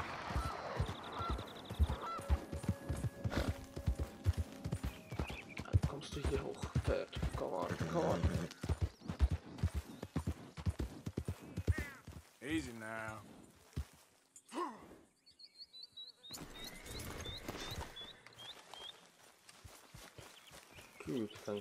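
A horse in the open-world video game Red Dead Redemption 2, with hoof clip-clops and movement mixed among game effects and other noises, while voices talk over much of it.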